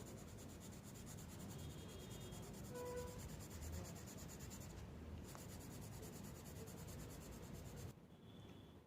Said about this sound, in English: with the help of this white pencil color, I am going to make here a moon